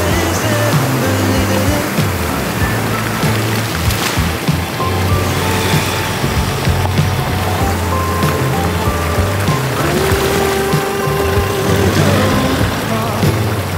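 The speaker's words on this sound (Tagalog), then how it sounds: "Laki ng ilog apaw-apaw." An overflowing river rushes in a loud, steady, dense roar of water that continues without pause, a broad churning wash close by with a low engine-like hum underneath.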